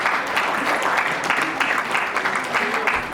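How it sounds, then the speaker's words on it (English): An audience at a community celebration in Ottawa gives a round of applause, steady, full clapping lasting a few seconds, with faint voices mixed in beneath. "Could we please have another round of applause for her?"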